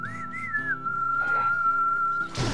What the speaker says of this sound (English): I'm whistling too.